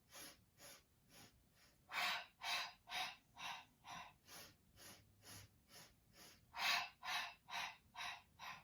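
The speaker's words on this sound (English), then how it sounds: "One more breath like that." Steady, rhythmic breathing during a Pilates exercise, with about fifteen audible breaths, inhales and forceful exhales, close and moderately loud, alternating at a regular pace.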